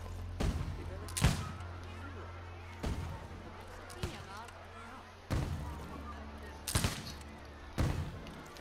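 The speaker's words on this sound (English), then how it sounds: "firing cannon all day long on the roof of their staff room" Cannons fire repeatedly from the roof of a staff room in the theme-park building game Planet Coaster: sharp, booming shots at irregular intervals, heard over a low steady background.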